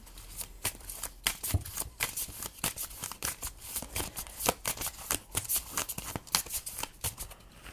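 Symbol cards being shuffled by hand nearby, producing a steady run of quick riffling, fluttering flicks that continue throughout.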